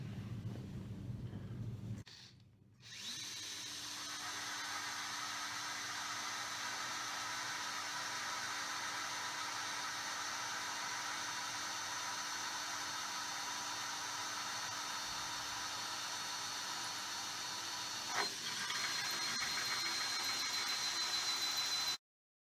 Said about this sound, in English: we're just using a standard hole saw